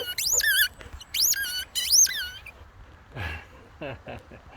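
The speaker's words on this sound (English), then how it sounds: "You love your squeaky balls, Rex." A dog's squeaky rubber ball toy is squeezed repeatedly in quick bursts of high, wavering squeaks during play between boxer dogs, close and loud, with softer thuds and scuffling after.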